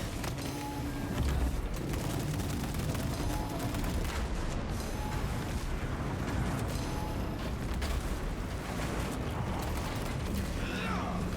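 A Heavy Bolter firing in Space Marine 2, sustained rapid gunfire layered with mechanical clatter and booming impacts, loud and continuous for over ten seconds, with game voices heard underneath.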